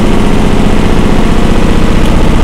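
An Indesit IWDE7168 washing machine straining while spinning a load of towels at 1000 RPM makes a loud, close, steady droning hum with a regular pulsing throb and no pauses.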